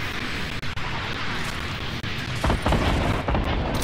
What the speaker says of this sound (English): Did I just triple rocket launcher?